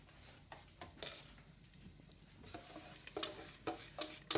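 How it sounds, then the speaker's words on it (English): Quiet sizzling crackles as carbonara sauce is added to a pan with smoked pancetta, under scattered clinks and scraping stirs, growing busier and louder toward the end. "Okay, and I have some sizzle, so I'm gonna add my sauce."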